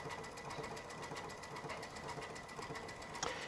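Baby Lock Altair sewing machine stitching bobbin work with metallic cording yarn, a steady rapid needle rhythm running close and continuous for a few seconds, with no talking over it.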